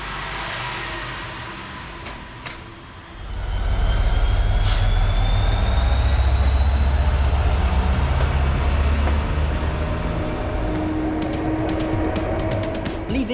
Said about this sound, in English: This stretch of line allows our Freightliner Class 66 to stretch its legs, reaching a top speed of 120 kilometres an hour.